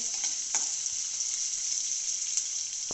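Sliced onion fries in a pan, giving a continuous bright sizzle with occasional soft stirring clatters and scrapes.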